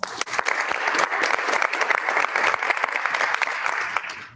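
A room full of people claps steadily for a few seconds, a dense patter of applause that tapers off at the end.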